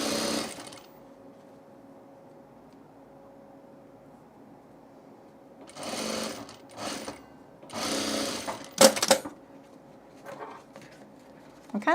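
A sewing machine stitches binding onto a vinyl tool case in several short, close runs: one at the start, then a few quick bursts later, with long quiet stretches of faint hum between them.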